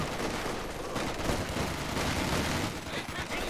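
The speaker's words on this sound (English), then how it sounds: "Mortar fire and then barrage follow up" Mortar fire and a follow-up barrage in the World War II strategy game Company of Heroes 2, a dense, unbroken roar of explosions and gunfire that stays loud and heavy throughout.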